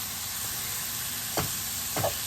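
Plant-based mince sizzles gently in a pan, a soft steady hiss with two brief louder scrapes of stirring, close and with no voices.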